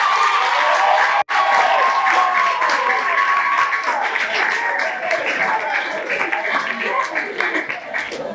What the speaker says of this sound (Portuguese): Uma forte salva de palmas para os professores.